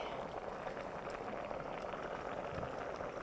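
A pot of hwangtae kimchi bean sprout porridge simmers under its lid, giving a steady, dense bubbling hiss with soft popping, continuous and moderately quiet throughout.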